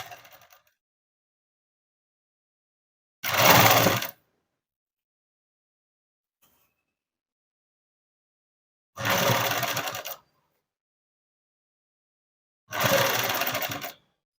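Three separate short runs of a sewing machine stitch gathered fabric onto lining cloth, each a close, loud, roughly one-second mechanical burst separated by long silent pauses.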